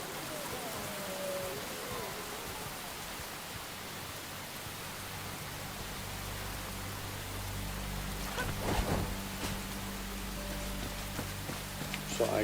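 Continuous rain falls in the survival game Enshrouded, a dense steady hiss with a low rumble building in the second half and a few brief sharper hits near the end.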